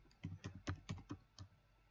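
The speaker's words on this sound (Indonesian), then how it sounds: "Di sini kita bisa ketik YouTube" Fingers type a word into a browser search on a computer keyboard, a steady run of about seven soft, close keystrokes with dull thumps, evenly paced over two seconds, with no speech.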